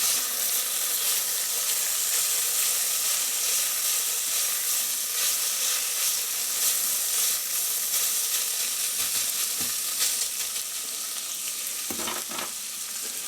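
Ragu sizzles and fries steadily in a pan while being stirred, with a loud continuous hiss and occasional scrapes of the spoon near the end.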